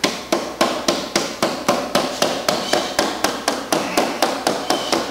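A hammer knocks a part into an arcade cocktail cabinet kit with about seventeen sharp, evenly spaced blows, steady in rhythm and loud at close range, with no talking.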